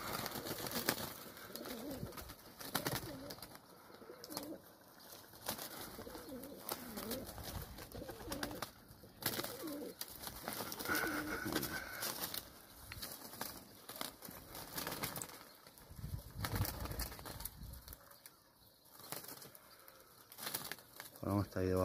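Pigeons at a release event cooing and flapping their wings, with soft calls and bursts of wingbeats scattered through a busy outdoor scene while people talk in the background.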